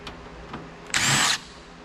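Power driver fitted with a Torx bit backing screws out of a Pentium II computer case, a short burst of whirring lasting about half a second after a couple of faint clicks, close and alone.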